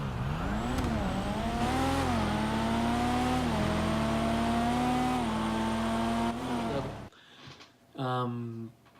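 Racing cars in the video game GTA 5, including a Supra, roar loudly as the engine revs climb through several gear shifts, then cut off abruptly before a brief second rev burst.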